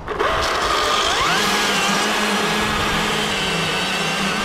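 A chainsaw runs loud and close while cutting through a tree, its engine droning steadily and rising in pitch as the throttle opens, then holding a sustained whine.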